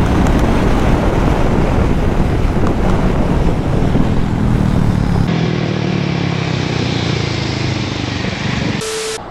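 A Hero Mavrick 440 and a Harley-Davidson X440 accelerate in sixth gear on a highway, a loud continuous engine roar heavily buffeted by wind rushing past the microphone.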